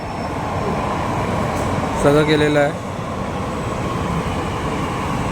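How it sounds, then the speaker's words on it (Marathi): An underground metro train pulls into a station on Mumbai's Siddhivinayak–Aarey line, its steady, loud rumble and airy hum filling the platform while a person talks briefly over it. "तर हे बघा मेट्रो आलेली आहे अंडरग्राऊंड"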